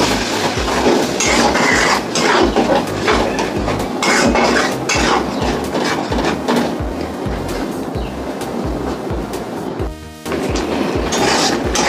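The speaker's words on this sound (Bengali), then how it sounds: "দেখো বন্ধুরা মশলাটা আমি কষাচ্ছি" Spice paste for a Bengali chicken curry is stir-fried in a pan, giving a loud, continuous sizzle with repeated metallic scraping and clattering of a ladle close by.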